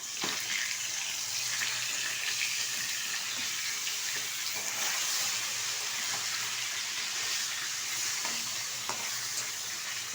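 Catla fish pieces, washed and salted, sizzle in hot oil as they are turned over in the pan, a steady close crackle with faint scraping touches and no talk.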